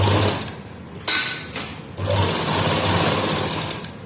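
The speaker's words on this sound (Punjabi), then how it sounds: "ਤੇ ਆਪਾਂ ਸਲਾਈ ਲਗਾਵਾਂਗੇ" Sewing machine stitching a seam onto fabric for a kameez neckline facing, a steady close whirring run that pauses briefly twice before resuming, with no talk.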